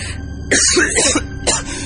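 A man bursts into coughing that starts while he is still laughing: two loud, harsh coughs close together, followed by a shorter third cough, near and with no talking.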